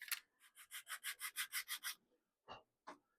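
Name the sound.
sanding a cut piece of craft material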